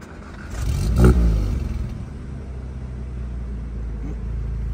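A car engine fires up with a loud rev that peaks and then falls back to a steady rumbling idle, close by, with no talking over it.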